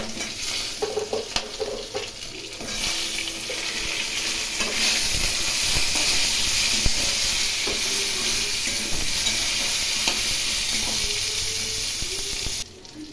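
Eggplant pieces dropped into hot oil with nigella seeds and green chillies, a loud sustained sizzle that swells after a few seconds of stirring clatter and holds steady before cutting off abruptly.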